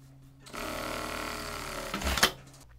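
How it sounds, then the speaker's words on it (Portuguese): A domestic sewing machine topstitches close to the seam edge of a women's blouse, whirring steadily for about a second and a half before slowing with a few louder mechanical knocks as it stops. "Abro tudo e faço pesponto rente à borda de montagem."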